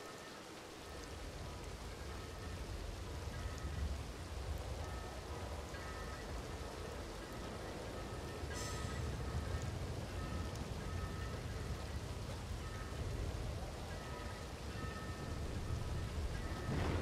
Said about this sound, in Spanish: Venga, que deje de llover.